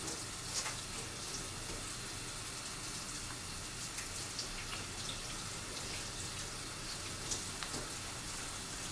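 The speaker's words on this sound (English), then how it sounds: "wash my hands with warm soapy water for 20 seconds." Warm tap water runs steadily at close range while hands are washed with soap, a continuous broadband splashing hiss during preparation of a tuna tofu salad.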